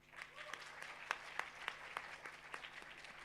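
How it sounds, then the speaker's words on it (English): Applause for debate team Team Plethos in the LBSIM auditorium, a faint, even patter of many hands clapping throughout, with a few sharper claps standing out and no voices. "please, a big round of cheer"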